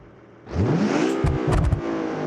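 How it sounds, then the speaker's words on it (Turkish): A Jeep Grand Cherokee V8 engine starts up and revs hard, its pitch climbing, with a few sharp throttle blips on top of a loud, close rumble. "Jeep Grand Cherokee nedir? Efsane araba bak. Sese bak şimdi bak."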